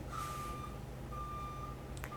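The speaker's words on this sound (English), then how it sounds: "if you can hear the beeping of a truck, I apologise" Faint, distant reversing beeps from a truck at nearby construction, a few long evenly spaced tones over a low rumbling background.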